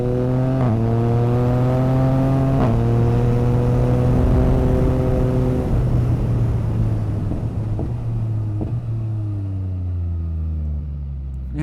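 Motorcycle engine on a touring ride through the Alps, revving loudly and continuously with sharp exhaust pops and crackles breaking through the steady drone, close and unbroken for the whole stretch.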